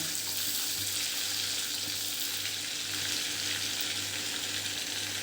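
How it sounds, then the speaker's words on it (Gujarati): Whole spices, bay leaf, cardamom, cinnamon stick and peppercorns, sizzle in hot oil in a pan, a steady close hiss of frying with faint stirring and no talk. "આ એક વખત આપણે બધું સાંતળી લઈશું।"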